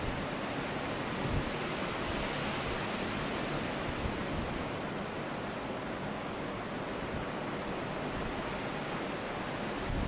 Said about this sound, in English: Close up of the waves on the point for a second.